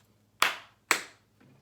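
Two sharp hand claps, about half a second apart, each ringing briefly in a quiet room, followed by a faint softer sound.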